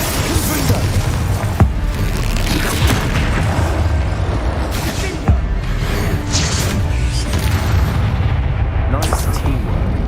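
Booming blasts from the Confringo spell in Hogwarts Legacy, with sharp explosive hits against dense, loud battle noise and spoken lines mixed in.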